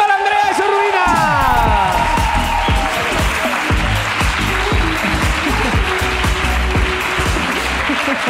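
An audience at a live comedy podcast recording claps and cheers loudly and steadily, with a few whoops in the crowd. A short tonal sting sounds as the applause begins.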